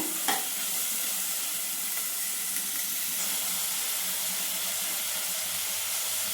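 Onions and curry leaves fry in a pan for sambar, giving a steady close sizzle and hiss with a brief clink of stirring near the start, no voices.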